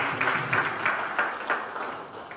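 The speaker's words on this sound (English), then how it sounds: "Can we give her a round of applause?" Applause at a statistics press conference in Freetown, Sierra Leone, for a United Nations Population Fund representative: a short spell of scattered clapping from a modest crowd, somewhat distant and roomy, fading out.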